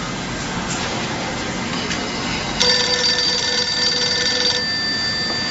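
An indoor telephone rings with a steady electronic tone that starts abruptly partway through and holds for about two seconds over a constant background hiss, then stops.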